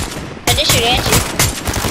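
Automatic gunfire from the video game Fortnite, a sharp burst breaking out after a short quiet lead-in and rattling on in loud repeated shots, with a player's voice talking over it.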